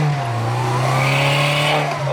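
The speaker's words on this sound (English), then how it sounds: "Oh, it's hesitant, eh? Not enough fuel." Turbocharged BMW M43 four-cylinder engine in a 316i/318i, running lean, holds a steady droning note under acceleration, loud and close, with a rising whoosh layered on top.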